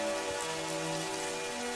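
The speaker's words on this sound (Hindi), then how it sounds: "बारिश शुरू हो गई।" Steady rain falling on a village, a continuous even hiss of drops on surfaces, moderately faint and unbroken, with no voices.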